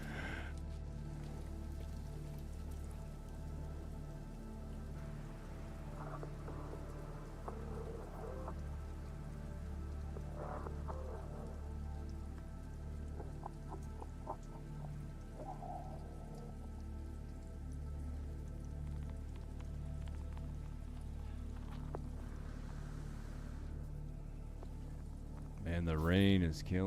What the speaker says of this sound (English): Man, the rain is killing me.